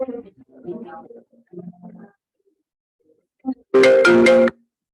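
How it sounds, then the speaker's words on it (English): An incoming call sets off a phone ringtone, a loud tonal burst lasting under a second that comes suddenly after a woman's speech and a short pause. "somebody called me and my phone is on Do Not Disturb"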